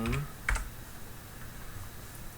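A few quick keystrokes on a computer keyboard tap close by, sparse and light, during a website product setup, and the rest is quiet.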